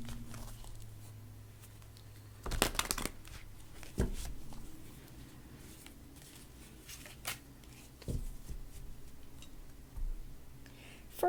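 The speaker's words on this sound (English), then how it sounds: "Let's shuffle these a little bit." A deck of cards shuffled a few times during a morning card-pulling session, brief riffling bursts at intervals over quiet room tone, fairly close and soft, with no speech.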